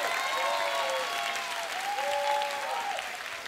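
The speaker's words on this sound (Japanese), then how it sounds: "この試合を戦い切った2人の選手に盛大な拍手を。" Steady applause from a crowd at a rap battle event fills the whole stretch, dense and even, with a few faint voice-like tones drifting over the clapping.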